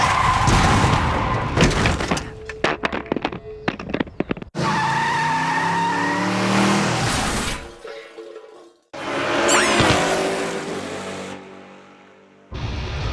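Cars skid and squeal loudly through handbrake 180-degree spin-outs on a driving course, with a rattling burst early on, then long, wavering tire squeals in two separate runs.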